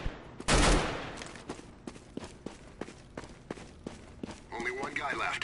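Sharp CS:GO gunshots ring out one at a time with a louder burst near the start, spaced irregularly under someone talking, with a scuffle of movement at the end.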